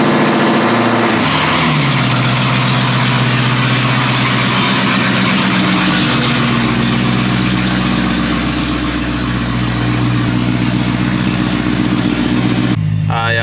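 A Dodge Hellcat V8 idles loudly and steadily nearby while air is being burped from its cooling system, a deep continuous rumble with a brief rev shift early on.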